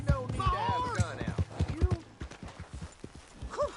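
Horse hooves clip-clopping in Red Dead Redemption 2, a quick uneven run of close hoof knocks under a man's spoken dialogue, with a brief whinny-like call near the end.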